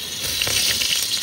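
Fish frying in a pan at a riverside cookout in the Sundarbans, a brief continuous hiss and crackle of sizzling oil, close and steady.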